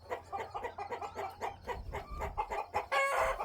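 Hens clucking and squawking in a hen house at night on a pasture-raised farm, a busy, overlapping chorus close by, with a louder burst of agitated calls at the end.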